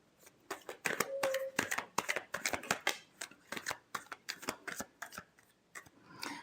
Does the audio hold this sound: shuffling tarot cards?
yes